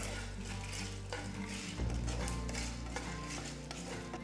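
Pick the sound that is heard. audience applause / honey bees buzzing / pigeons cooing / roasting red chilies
roasting red chilies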